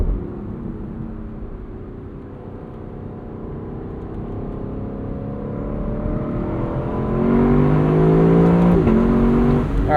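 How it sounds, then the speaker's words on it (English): Lexus LC 500 Convertible with its V8 engine, downshifting in rush-hour traffic: a steady engine drone rises into louder revving blips with climbing, stepping tones near the end, heard from inside the car with no talk. "Oh, listen to the downshifts."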